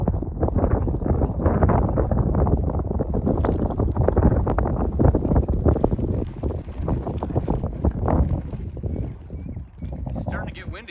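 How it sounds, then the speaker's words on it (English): Gusty wind buffets the microphone outdoors during a poultry netting setup, a loud rough rumble that rises and falls throughout. "It's starting to get windy"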